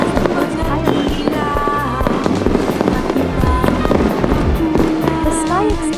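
Fireworks bursting over the Pasig River Esplanade at a 2024 New Year display, a dense continuous barrage of loud booms and crackles layered with a cheering crowd and voices throughout.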